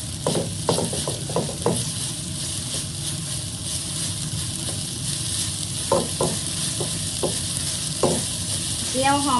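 Shallots frying in a pan give a continuous close sizzle, with clusters of quick scraping stirs and a brief clattering burst near the end.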